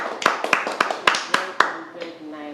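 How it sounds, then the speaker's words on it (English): A group in a special-needs classroom claps for a child: about seven sharp, evenly spaced claps in a quick rhythm, followed by voices talking. "Let's clap for Biodun."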